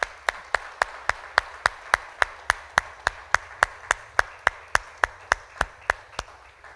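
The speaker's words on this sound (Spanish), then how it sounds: "Dele un aplauso a nuestro Señor, hermanos." A single pair of hands clapping in an even, steady rhythm at a church service, about twenty crisp claps at roughly three per second, fairly close and alone without talk.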